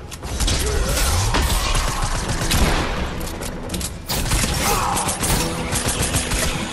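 Harpoon gun firing in a combat video game: a loud, dense mechanical clattering and rattling burst that runs almost continuously, with a short dip before resuming just as strong.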